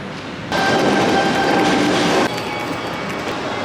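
A loud, steady rumble of a moving commuter train carriage heading to Edgecliff in Australia, with rushing noise, easing slightly partway through, with no talking.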